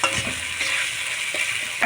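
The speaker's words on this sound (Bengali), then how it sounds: "অল্প একটু নেড়ে চেড়ে নেব।" Stirring a thick mustard and poppy seed paste in a pan of Bengali shrimp malai curry, a steady close sizzle with soft scraping strokes and a few spoon taps, no talking.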